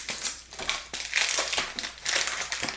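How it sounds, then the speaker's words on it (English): Ink bottles for an Epson ET-2980 printer being pulled from plastic packaging, a series of close, sharp crinkling and crunching bursts of plastic over a few seconds. "let me remove the ink bottles from their packaging"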